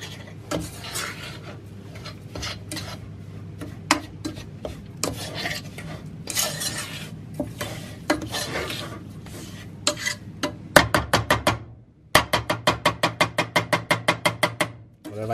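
Crushed biscuit for a cheesecake base being mixed in a bowl, a close gritty scraping and rubbing that turns into a quick run of sharp, regular clinks and taps near the end, with no voices.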